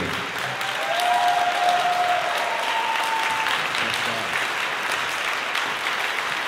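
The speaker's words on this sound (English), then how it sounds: "Another big round of applause for the entire Jazz Band A." An audience at a school autumn jazz concert gives Jazz Band A a big round of applause, steady dense clapping with a few cheers, filling the hall evenly throughout.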